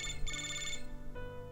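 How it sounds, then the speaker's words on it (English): A phone ringtone plays in the video game Love and Deepspace: a short, clear electronic ring with steady sustained tones that sounds close and alone for under two seconds. "Suddenly the phone rings."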